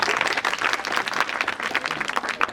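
Audience clapping in a brief burst, a dense, fast patter of many hands at close range lasting a couple of seconds, no talking over it.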